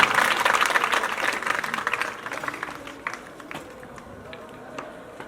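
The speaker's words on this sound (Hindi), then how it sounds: "हार्दिक अभिनंदन और जोरदार तालियां" Applause at a school retirement programme, a dense burst of clapping from the gathered audience that is loudest at the start and gradually thins out into scattered claps.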